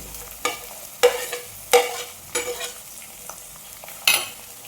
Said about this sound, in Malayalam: ഒരു 3 പച്ചമുളക് ഇട്ട് ഇത് നല്ലതുപോലെ ഒന്ന് വാടി കിട്ടണം. വഴന്ന് വരട്ടെ.